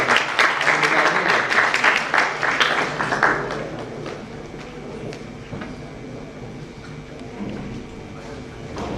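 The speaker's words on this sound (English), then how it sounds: "Please give a round of applause for S." An audience at a Fore School of Management business case competition applauds Team Maverics, a burst of clapping that fades after a few seconds into quieter room noise and scattered taps.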